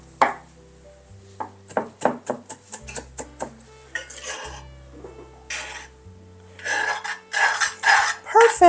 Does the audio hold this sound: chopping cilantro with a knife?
yes